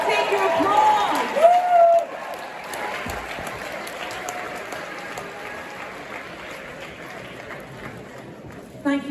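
An audience applauds at a London premiere celebration for The Crown, a dense wash of clapping with some cheering that is loudest at first and then settles to a steady, fainter patter.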